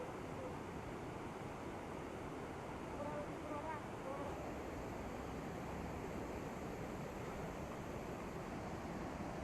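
Steady broadband roar of Patahara waterfall in Keonjhar, continuous and fairly close throughout, with no clear talk over the rushing water.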